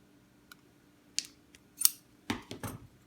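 Scissors snip through paper in a few crisp, quiet cuts, closely miked against near silence while a woodworking model part is trimmed.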